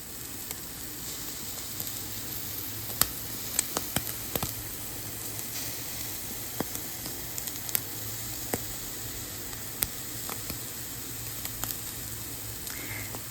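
Turkey meat sizzles and crackles in a hot pan, a quiet steady frying hiss scattered with sharp pops and spits throughout.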